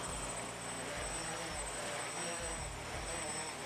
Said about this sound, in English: You set the multicopter on a carpet or grass and raise the throttle up to the point it almost starts to hover.